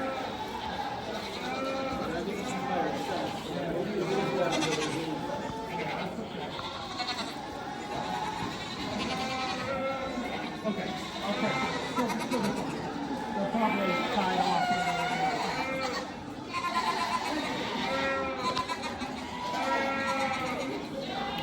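Nigerian dwarf goats bleat repeatedly at a competitive show, many overlapping wavering calls filling the ring continuously alongside crowd murmur and a voice talking.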